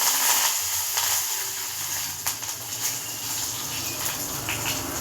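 Curry leaves crackle and sizzle in hot oil, a close, steady frying hiss with scattered pops and spits throughout.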